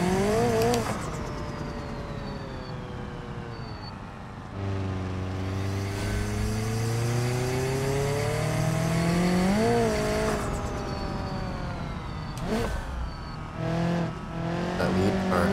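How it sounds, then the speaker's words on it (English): A race car engine in BeamNG.drive roars steadily at Hirochi Raceway with rising and falling pitch, a high whine and whoosh of turbo boost building over the revs, loud and close. "It's a wonderful boost noise."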